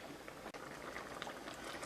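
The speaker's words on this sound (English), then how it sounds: "I'm just going to let this stir for about a minute on high while it's boiling hard." Blueberry maple jam boils hard in a pot on high heat, a dense, continuous bubbling and popping close by, with one brief sharp knock partway through.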